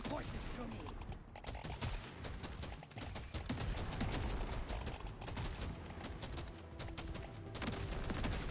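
Rifle gunfire in the video game Deep Rock Galactic Survivor: dense, rapid overlapping shots and impacts forming a continuous barrage, fairly quiet and steady throughout.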